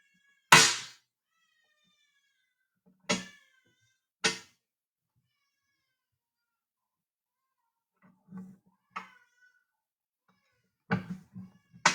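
An unhappy baby girl in a home fusses in several short, loud bursts of crying with long quiet pauses between them, near the microphone and with no talk over it.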